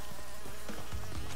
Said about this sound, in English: How do I get rid of the bees?